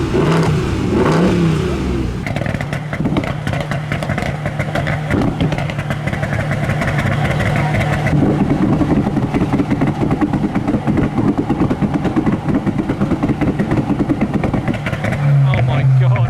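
Modified cars rev hard and pull away from a car meet, engines roaring and popping loudly and continuously, with crowd chatter mixed under the noise.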